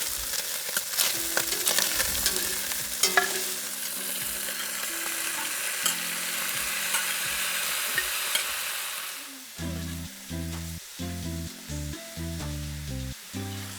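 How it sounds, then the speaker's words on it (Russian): Meat sizzling in a pan as tomatoes, bell pepper and onion go in and get stirred, steady frying hiss with spoon scrapes, then music takes over partway through. "Мясо отлично обжарилось, можно добавлять к нему помидоры, болгарский перец и репчатый лук"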